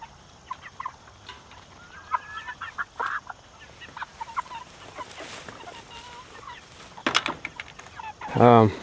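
Broiler chickens in a movable coop on fresh grass cluck and chirp softly in a scattered, busy chorus, with a louder burst of calls near the end.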